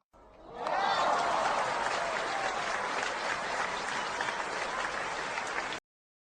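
Studio audience applause on a talk show, a steady, fairly close wash of many hands clapping that rises quickly and holds for several seconds before cutting off abruptly.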